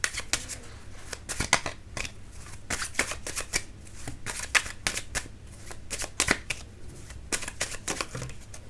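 Tarot cards being shuffled by hand, giving close, crisp riffling and slapping bursts in an irregular rhythm with short pauses, and no talking.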